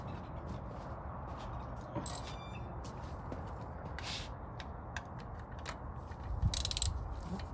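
Ratchet wrench clicking on the last bolt of a Toyota 4A-C engine during a teardown, with quick irregular bursts of clicks and metallic knocks heard up close in a quiet workshop.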